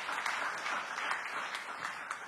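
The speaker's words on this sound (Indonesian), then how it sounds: "tepuk tangan yang meriah bagi Tuhan Yesus" Sustained applause from a church congregation during a sermon, steady and fairly distant, a dense wash of clapping throughout.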